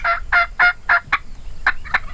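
A wild turkey gobbler in the Texas hill country, across a field near a hillside, gobbles in a quick run of about six loud, rhythmic bursts that sound fairly close, with no talking.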